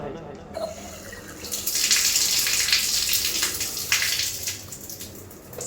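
Water runs from a tap during wudu ablution, a loud steady gushing and splashing close by, starting after a short pause and continuing with small surges under the flow.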